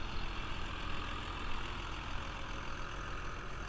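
A vintage collector's tractor engine runs close by with a steady, loud, continuous rumble that holds without a break. No one speaks.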